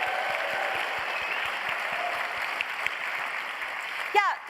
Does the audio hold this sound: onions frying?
no